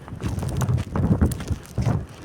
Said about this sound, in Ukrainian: Вітер зриває